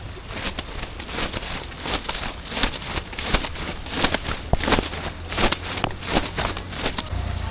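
Loud, dense rain pours steadily close by in the Konkan, with irregular heavier splashes and patter throughout.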